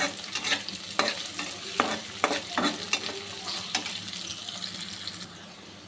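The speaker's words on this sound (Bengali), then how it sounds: "এখন আমি এটা একটু ভেজে নিব।" Chopped onion and green chili frying in a pan with a few dried chilies, giving a steady low sizzle broken by repeated scraping stirs, close by with no talk.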